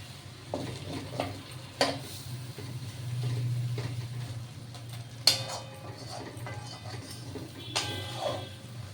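Shrimp frying in a pan for a malai curry give a faint, low sizzle. Scattered sharp clinks and scrapes of a utensil against the pan cut through, close by, with no talk.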